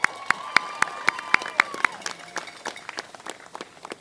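A crowd at a send-off for a high school football team claps and cheers, with sharp rhythmic claps up front followed by looser scattered applause and a murmur of voices.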